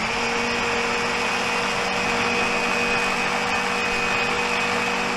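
A hand food processor mixes cookie cake batter with a constant loud electric whir that holds steady the whole time, with no voices.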